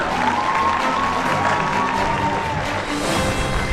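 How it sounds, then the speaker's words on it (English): A crowd at a national exhibition award ceremony applauds and cheers for a winning team, steady loud clapping mixed with crowd noise and a faint whistle, continuous throughout. "Round of applause for the team again."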